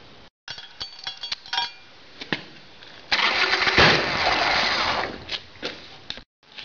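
Harley-Davidson Evolution Sportster motorcycle with a carburettor problem: scattered clicks and clinks, then the engine bursts into a rough, loud run for a couple of seconds before sputtering and fading back to quiet.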